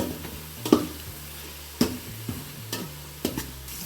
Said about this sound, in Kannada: ನೋಡಿ ಚೆನ್ನಾಗಿ ಫ್ರೈ ಆಗ್ತಿದೆ ಫ್ರೈ ಆಗ್ತಿರೋದಕ್ಕೆ ಒಂದು ಸ್ಪೂನ್ ಉಪ್ಪು ಹಾಕೊಳ್ಳಿ